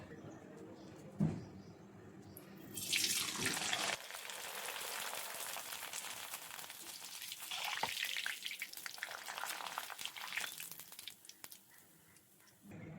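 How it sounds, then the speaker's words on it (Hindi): Kurdai papad dropped into hot oil, erupting into a loud crackling sizzle that fades, then a second bubbling surge as frying continues, with no talk over it. "गरम गरम ऑयल में ही कुरडई को फ्राई करेंगे"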